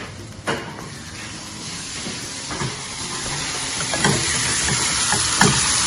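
Paste fries in a pan with a steady low sizzle and hiss, punctuated by a few spaced stirring scrapes that grow slightly louder toward the end; nobody speaks.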